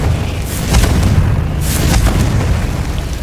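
Confringo spell blasts in Hogwarts Legacy, loud booming explosions that land in a couple of heavy bursts over a constant rumbling roar.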